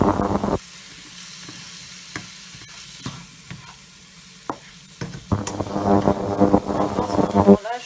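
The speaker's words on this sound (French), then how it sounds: "je vais revenir les légumes moyen pour que ça cuise bien" Vegetables sauté in a pan over medium heat with a steady sizzle, broken by sharp clicks and stirring knocks; the frying swells louder toward the end, close up, with no talk.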